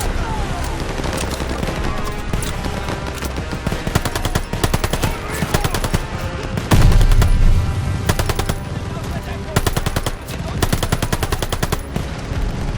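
Dense automatic and rifle gunfire crackles in rapid bursts throughout a World War II Omaha Beach battle in Call of Duty Vanguard, with a heavy boom midway and shouted commands mixed in.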